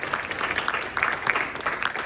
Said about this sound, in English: one more round of applause for Tech Ops and Psychology Club